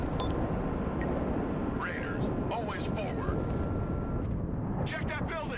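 Ballistic missile strike in the Broken Arrow war game: dense, sustained rumbling blasts of artillery-like fire fill the scene at steady loudness, with whistling tones and bursts rising over the roar.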